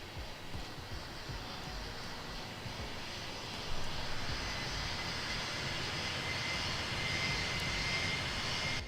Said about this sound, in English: This is our first takeoff in Tower Simulator 3.